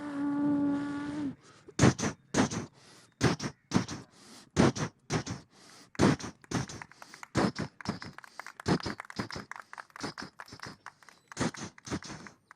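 A boy vocally mimics a train. A brief whistle-like tone opens, then comes a long run of rapid rhythmic chuffing bursts that keep a steady beat close to the mic.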